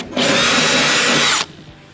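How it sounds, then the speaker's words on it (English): A power drill bores through a freshly tacked metal bracket for a nitrous bottle on a Corvette drift car build, one steady high-pitched whine lasting over a second, close and loud, then cutting off abruptly. "I just tacked the bracket for the top, and we're gonna go ahead and drill this"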